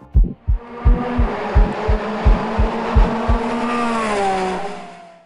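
McLaren 720S GT3 Evo race car in Assetto Corsa Competizione, with a rapid run of sharp popping engine pulses followed by a loud, rising revving engine drone that fades out toward the end.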